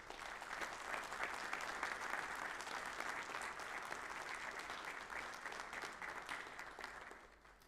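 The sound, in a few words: audience round of applause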